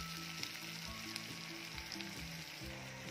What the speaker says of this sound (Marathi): तर आता टोमॅटो देखील छान परतून विरघळून घेऊया.